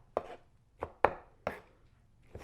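A knife chopping on a small cutting board while making salsa verde, five distinct close thuds at an uneven, unhurried pace with quiet between strokes.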